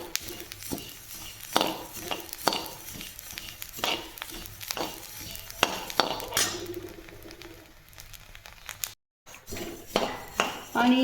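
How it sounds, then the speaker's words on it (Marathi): Coriander seeds dry-roast in a pan as a spoon or spatula stirs and scrapes against the metal, giving repeated clinks and scraping rattles at an irregular rhythm, with a brief silence near the end. "मी धने भाजते तर धण्यांचा मस्त वास येतो आहे"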